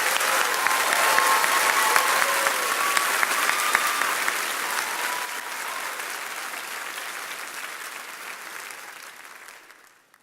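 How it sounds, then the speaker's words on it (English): Sustained audience applause at a graduation ceremony, a dense steady patter of many hands that stays loud for most of the stretch, then gradually thins and fades toward the end, with a few faint voices mixed in. "Please join me in giving Jason, William, Wilbert, Jordan, and John a well-deserved round of applause."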